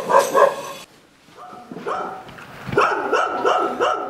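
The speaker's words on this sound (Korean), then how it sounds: "강아지들이 이렇게 짖는 건 순한 아이들일수록 더 잘 짖어요" Several dogs in a residential neighbourhood of Samyang-dong, Gangbuk-gu, Seoul, bark and yip repeatedly at close range, with a short lull between bursts and no talk.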